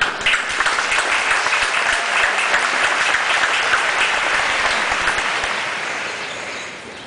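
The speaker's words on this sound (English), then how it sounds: "and just a round of applause for them all." Broad applause from a large gathering at a Harvard Law School commencement, a thick steady roar of many hands clapping that holds for several seconds and then begins to fade.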